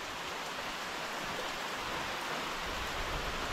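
Dense, even hiss of heavy monsoon rain in Konkan, a constant broadband roar without breaks or individual drops standing out, moderately quiet and with no voices.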